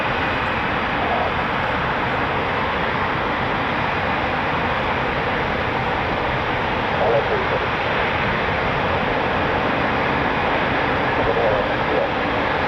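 A Eurofighter Typhoon FGR4 jet taxis at an RAF station, a constant loud broadband engine roar with a steady hiss, with someone talking over it.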